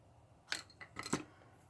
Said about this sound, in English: I'm going to use my ribbon scissors and